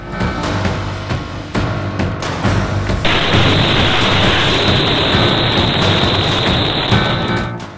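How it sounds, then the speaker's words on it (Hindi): A village cannon fires a shell, a heavy boom followed by a sustained loud rumbling roar that lingers for several seconds with no talking. "ये किसने और क्यों दाग दिया तोप से गोला?"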